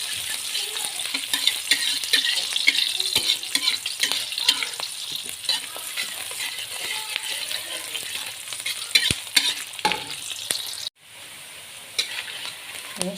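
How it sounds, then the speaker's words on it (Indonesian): Ingredients for Betawi-style capcay being stir-fried in a pan, a loud, continuous sizzle with scraping stirs and clinks up close, cut off abruptly near the end and replaced by a quieter, duller bubbling. "saya tumisnya sampai agak harum sepertinya"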